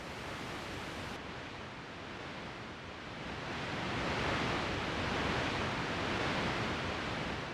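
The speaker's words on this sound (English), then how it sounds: "use a volume shaping plugin to get the noise bouncing and grooving" Broadband white noise hisses continuously, its level swelling and dipping in a gentle pumping motion, with no voices present.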